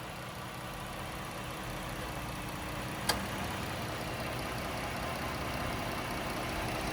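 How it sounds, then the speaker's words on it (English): The V6 engine of a 2013 Chrysler Town and Country minivan idles with a smooth, steady low hum, quiet and even, with one brief click partway through. "So as you guys can tell, nice and smooth running engine, no odd noises or vibrations."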